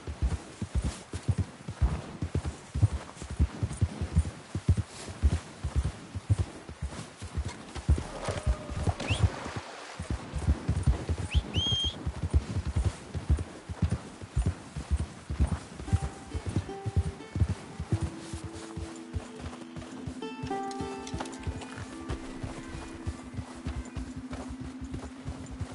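A horse gallops in Red Dead Redemption 2, its hooves drumming in a fast, loud, irregular rhythm before easing off, with an occasional whinny and a rising game music tone near the end.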